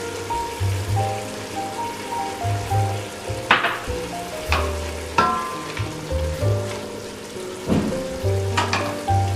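Ginger hitting a hot pot of matar pulao over full heat sizzles and fries steadily, with soft stirring scrapes and pops breaking through a dense crackle; a faint tonal background hum continues underneath.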